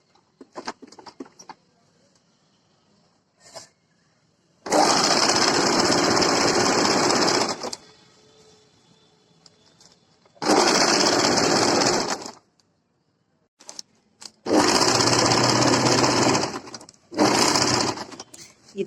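An electric sewing machine stitches the side seam of an A-line kurti in three long, loud whirring runs of a few seconds each, separated by quiet pauses with faint handling clicks and brief taps.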